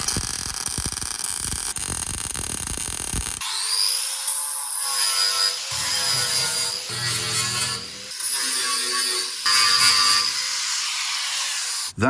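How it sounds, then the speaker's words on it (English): Short bursts of stitch welding run along a flange on a Datsun 240Z boot floor during a restomod, a loud, steady crackling buzz broken by brief pauses between welds, with no talking. "just do a couple of little stitch welds along here to make sure that's nice and strong"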